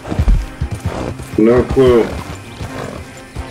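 Horse hooves clop along in Red Dead Redemption 2 Online as a player rides, the steady footfalls sitting low beneath close, ongoing conversation between players.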